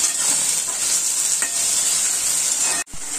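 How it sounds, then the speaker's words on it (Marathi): Tomatoes sizzle steadily in a hot pan, with a few scrapes from the stirring spoon scattered across the frying hiss and a brief break near the end. No one speaks. "टॅमॅटो टाकलं. चांगलं भाजून घ्यायचं."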